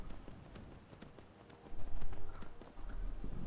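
Horse hooves in the video game Skyrim clip-clop in a steady rhythm, growing louder as the animal approaches, with faint whinnying in the mix.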